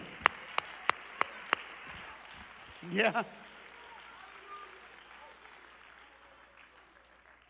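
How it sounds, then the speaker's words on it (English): A church congregation claps hands in worship: five sharp, evenly spaced claps open the moment, then a short burst of clapping follows a little later, with a brief spoken word and quiet room ambience around it. "Clap your hands unto the Lord"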